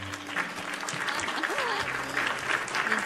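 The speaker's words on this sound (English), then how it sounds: "Everybody, give a round of applause for Miss Xylia Skylark, everyone" Applause from a studio audience on a late-night style talk show, steady and moderately distant, with a voice speaking over the clapping and some tonal sounds mixed in.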